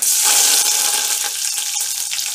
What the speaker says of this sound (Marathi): मोहरी छान तडतडून घ्यायची, मोहरी जास्त टाकायची थोडी।